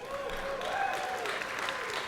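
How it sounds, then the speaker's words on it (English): An audience at the D.I.C.E. Awards, a video game awards ceremony, applauds steadily, a dense close clatter of clapping that holds for the whole moment. "And you can applaud."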